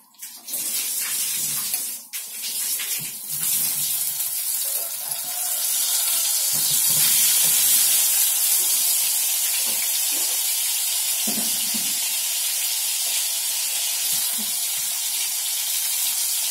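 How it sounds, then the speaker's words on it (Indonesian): Tofu frying in hot oil in a home kitchen, a steady loud sizzling hiss that runs throughout with crackling pops, no talk over it. "saya akan menggoreng tahu tahu mau saya masukkan ya pemirsa"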